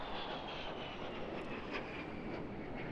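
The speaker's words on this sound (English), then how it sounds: "powered by that de Havilland Goblin engine there" Small single-crew jet aircraft powered by a de Havilland Goblin engine flying past at an airshow, a faint, distant, steady roar with no talk.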